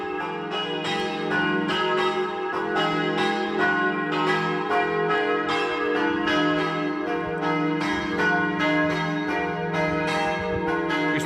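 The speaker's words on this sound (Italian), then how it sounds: "Ed ecco il suono melodioso delle campane che ci invitano alla preghiera" Church bells of the church of Torlano, Friuli, peal continuously from its large bell tower, overlapping strikes ringing out loud and full with a rich, sustained hum between them.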